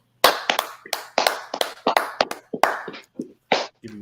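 Sharp hand claps ring out in a quick irregular series of about a dozen crisp, close strikes with brief gaps, sounding like a few people clapping together.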